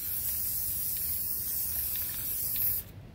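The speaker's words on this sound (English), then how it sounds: "So let's start with the black real quick and just spray all over." Black spray paint hisses from an aerosol can in one steady, close burst for nearly three seconds, then cuts off, during work on a sea turtle painting with spray paints.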